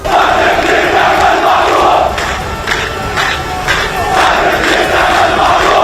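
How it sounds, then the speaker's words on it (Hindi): A protest crowd in the streets of Ramallah chants slogans against Israel, condemning an air strike on a hospital in Gaza. The sustained, loud collective shouting fills the whole stretch and swells in waves from close by. "लोगों ने अस्पताल पर हुए हवाई हमले की निंदा की और इजराइल के विरोध में जमकर नारेबाजी की"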